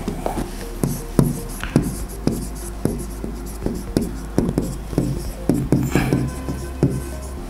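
A pen taps and strokes across the glass surface of a Logic FX Series interactive display board, giving a string of short, distinct knocks and scratches at an uneven pace over a low steady hum.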